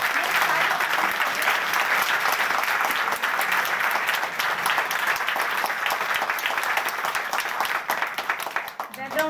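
An audience at a live Hindi stand-up comedy show applauds loudly and continuously for several seconds, a dense wash of clapping that thins slightly toward the end.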